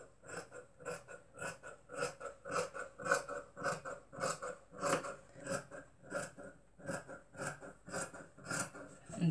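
Scissors snip through skirt fabric in a steady run of repeated crisp cuts, close and moderately quiet, with a voice speaking over them.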